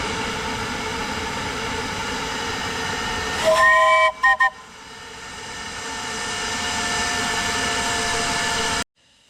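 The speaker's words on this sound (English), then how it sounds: "So operating the blow down at the bottom and in turn closing top and bottom valves." Steam test on a 7¼ inch gauge Bagnall locomotive, with a steady loud rush of steam from the boiler blowdown, a brief whistle-like tone partway through, then a hissing release that cuts off abruptly near the end.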